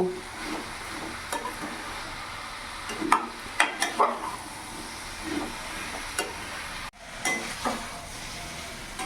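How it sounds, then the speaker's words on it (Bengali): Squash being stirred and sautéed in a pan over a medium flame, with a steady sizzle of frying and a series of sharp scraping clicks from the spoon, and no voices. "এবার ভালো করে একসাথে মিশিয়ে আমি কিছুক্ষণ কষিয়ে নেব"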